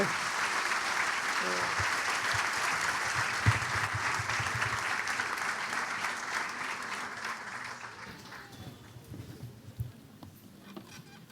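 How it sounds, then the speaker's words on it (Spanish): Applause from a church congregation during a Good Friday service, a steady patter of many hands that slowly fades toward the end, with a faint voice briefly audible. "¿Qué les parece si le mostramos nuestro afecto y cariño con un aplauso?"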